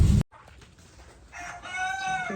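A rooster crows nearby on a poultry farm, a drawn-out harmonic call rising in the second half, preceded by a short loud bump and farmyard background.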